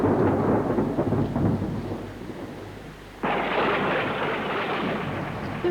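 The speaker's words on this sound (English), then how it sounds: "The rain and thunder and lightning go on until the rain disperses" A deep rumble of thunder rolls under heavy rain, then the downpour intensifies abruptly into a loud, steady hiss.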